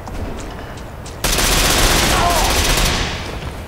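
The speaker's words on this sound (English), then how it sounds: "By the sound of those bullets, I would say yes." Gunfire from the video game Ghost Recon, a quieter rattle of shots giving way abruptly to a loud, sustained burst of rapid fire that fades slightly near the end.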